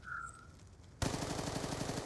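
A rapid burst of automatic gunfire in Call of Duty: Black Ops 2 multiplayer kicks in abruptly after a quiet moment, loud and sustained with evenly spaced shots.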